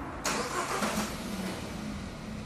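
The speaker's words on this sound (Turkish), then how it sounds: "Çalıştırın aracı." A Hyundai Tucson engine starting, heard as a brief starter crank followed by the engine catching into a steady, fairly quiet idle.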